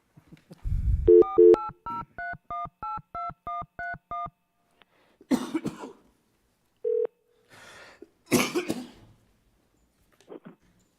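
Telephone keypad tones dial a number in a regular run of about a dozen short beeps, with a brief ring-like tone and some coughs and background noise afterward in a quiet meeting room.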